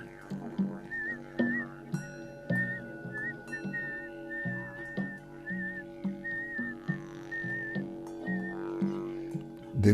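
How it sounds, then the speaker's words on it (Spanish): A warbling whistled melody rises and falls repeatedly over steady music, moderately loud and continuous. "Entonces Dunas lanzó un silbido que retumbó como eco del viento."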